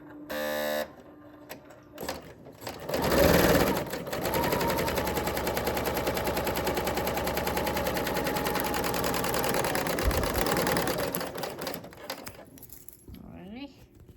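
A 4-thread overlock sewing machine runs a short strip of fabric, a steady, fast mechanical whir lasting about nine seconds after a brief start-up, loud and close, then winding down with faint handling noises.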